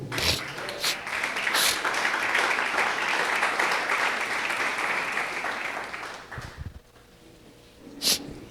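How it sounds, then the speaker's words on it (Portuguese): A church congregation applauds the Lord after a prayer, a broad wash of clapping that runs steadily for about six seconds, then fades into near quiet with a brief burst near the end. "dê mais um aplauso ao Senhor"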